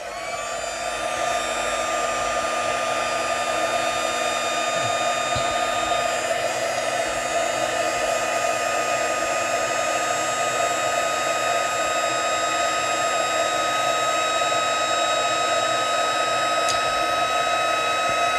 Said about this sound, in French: Donc, pour ça, notre pistolet chauffant.